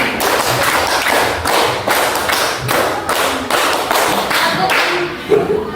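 Rhythmic hand clapping in quick, even bursts, many hands in a classroom clapping together in a steady counted pattern, loud and close.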